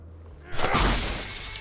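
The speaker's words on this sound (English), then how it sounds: "TV's getting smashed." A TV is smashed in The Wolf Among Us video game, a sudden loud crash of shattering glass after a quiet start, with breaking debris trailing off over the next second.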